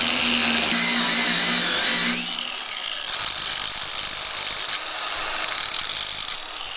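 Power tool cutting out a metal flange on a vintage go kart, a loud, close, harsh grinding whine running in a few continuous stretches with short changes in pitch and load as the cut progresses.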